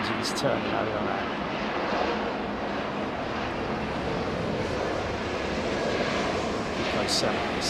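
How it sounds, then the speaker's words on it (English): Boeing 777 jet engines at London Heathrow produce a steady, distant broadband roar and whine that hold throughout, with people talking intermittently over the engine noise. "engines turning over on that"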